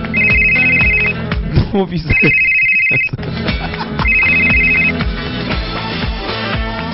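A telephone ringtone rings in three repeated electronic bursts, loud and close, alternating with a short spoken word and with music playing beneath throughout.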